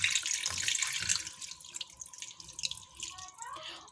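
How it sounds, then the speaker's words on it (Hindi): Half a cup of water is poured into a wok holding jaggery, a splashing, gurgling pour that is loud at first and then trails off into softer trickles and drips. "तो अब इसमें हम आधा कप सिर्फ पानी का ऐड करेंगे।"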